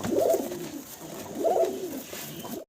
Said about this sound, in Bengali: নটটা ডাকতেছে ভাই নট ডাকতেছে।